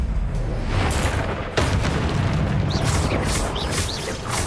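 Hogwarts Legacy combat with a Confringo fire spell blast, loud booming impacts over a dense rumbling roar, with sharp bursts and whooshing spell effects layered over one another.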